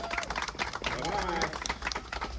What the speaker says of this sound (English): How about a big old round of applause for Grandpa?